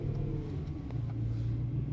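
BMW M3 with a DCT gearbox idling just after a start, a steady low rumble with a faint hum. It holds even throughout with no speech, and the starter crank itself is not clearly audible.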